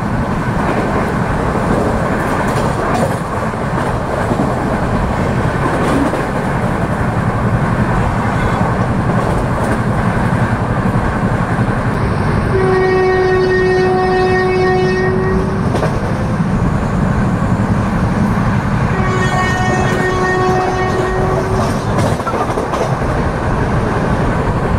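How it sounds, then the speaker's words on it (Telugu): The Kakinada–Mumbai LTT Express rushes through a station at 130 km/h, heard from onboard as a loud, steady rumble with clickety-clack over the rails, and two long horn blasts, the second shorter. "మన ట్రైన్ వచ్చేసండి బిక్కవోలు రైల్వే స్టేషన్ అయితే స్కిప్ చేస్తుందండి"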